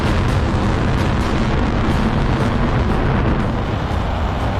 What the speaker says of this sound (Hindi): रात के अंधेरे में मिसाइलों की गर्जना से आसमान जगमगा उठा और धमाकों से